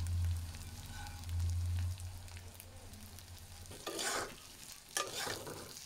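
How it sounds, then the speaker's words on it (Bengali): Chopped tomato and green chili frying with onion, garlic, ginger and salt for a beef bhuna, a quiet sizzle under a low hum, then two louder bursts of stirring and scraping. "এখন পেঁয়াজ টমেটো একটু ভেজে নিচ্ছি।"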